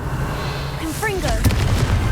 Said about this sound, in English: we just blew up some stones